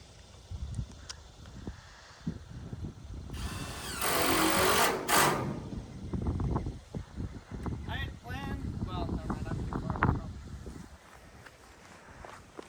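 An electric driver screws purlins into a shipping container outdoors, making short whirring bursts with one longer, louder run, over wind noise and scattered knocks.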